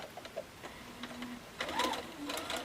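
A sewing machine stitches a half-square-triangle quilt block in a quick, steady run of needle clatter, fairly close and moderately loud, with a brief pause before a busier burst near the end.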